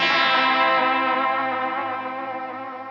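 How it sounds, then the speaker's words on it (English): Tokai Talbo electric guitar played through lo-fi chorus, vibrato and reverb effects, a single sustained, wavering chord ringing loud and slowly fading over about three seconds, with no voices. "It's basically chorus, vibrato, and spangly sounds, they say. Pitch-shifting nonsense and haunting reverb, warped tape delay weirdness."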